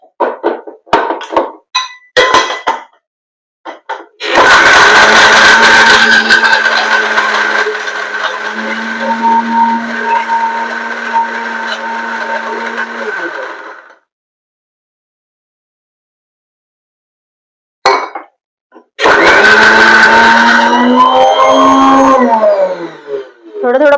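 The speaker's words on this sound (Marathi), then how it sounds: "तर आता हे थोडं थोडं पाणी घालून मी हे व्यवस्थित बारीक वाटून" Electric mixer-grinder running steadily for about ten seconds as it grinds a wet masala paste with water added, then stopping; after a pause it starts again for a second loud run, with brief clinks between the runs.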